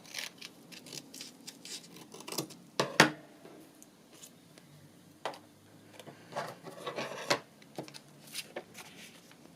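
Scissors cut through paper in short, irregular snips and rubbing rustles, close and fairly quiet, with one louder crisp cut near the start and scattered snips afterward, no talking.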